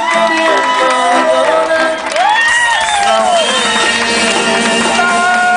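A crowd at a vela muxe celebration cheers, whoops and applauds for the 2011 queen, a loud continuous roar with shouts and pitched voices rising over it, no pause in the noise.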